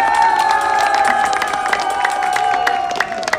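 A festival crowd cheers and claps loudly for a retro performance group, with dense clapping and a sustained high whistle or shout running over the applause.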